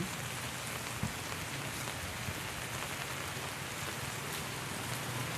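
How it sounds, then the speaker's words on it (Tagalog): Steady typhoon rain pattering on a surface, a dense even hiss with a few louder drops, no voices. "magtampisaw sa ulan"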